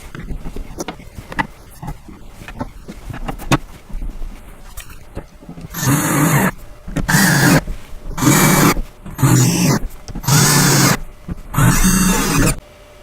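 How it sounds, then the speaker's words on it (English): A power drill drives screws into the top shelf of a Badger Basket multi-bin storage cubby, with six loud whirring bursts of about a second each separated by short pauses, following quieter handling clicks. "we're going to put the remaining 6 screws into each hole and screw this whole top shelf down"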